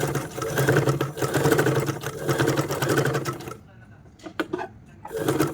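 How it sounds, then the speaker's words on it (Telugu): A sewing machine runs in steady, loud bursts, stitching the main cloth of a simple umbrella dress. It pauses briefly with a few clicks and handling sounds before whirring again. "చూడండి మెయిన్ క్లాత్ స్టిచ్ చేసుకోవాలి."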